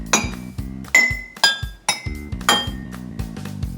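The lowest-pitched water-filled bowl of a homemade water xylophone is tapped several times in an uneven rhythm, each strike giving a bright, ringing, glassy tone that quickly decays.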